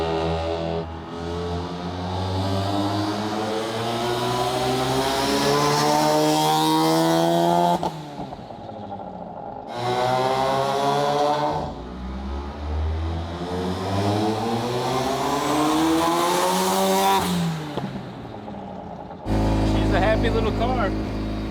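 Rotary-engine car on boost making short acceleration pulls, the engine note sweeping upward in rising revs through each gear, cutting off between runs, loud and close.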